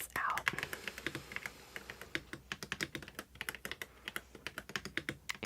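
Someone types on a Redragon computer keyboard in a quiet ASMR setting, the close, rapid, crisp keystrokes falling in uneven bursts, with a faint whisper at the very start.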